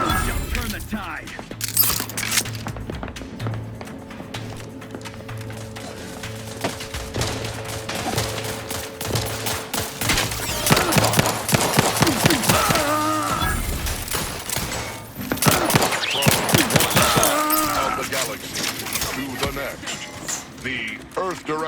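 Rapid autocannon fire rattles through a combat scene in The Outer Worlds 2, bursts of heavy shots over mechanical clatter and game sound effects, with voices speaking at times.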